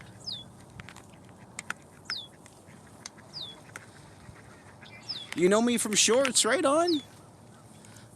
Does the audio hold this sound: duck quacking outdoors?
yes